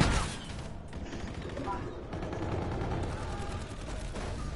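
Submachine gun fire in Call of Duty: Infinite Warfare rattles in dense, continuous rapid bursts at steady volume, blended with other game noise and overlapped by players talking.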